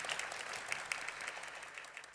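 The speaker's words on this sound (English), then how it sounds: "I think this does deserve a warm round of applause." Warm round of applause from a congress audience of public service union delegates, a dense, steady patter of many hands clapping at moderate distance, fairly faint, with no voices over it.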